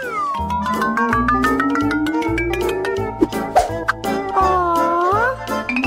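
A pet cat given milk lets out drawn-out, rising and wavering meows close by, with a few soft wet plops mixed in. The cries run almost continuously over a low background hum.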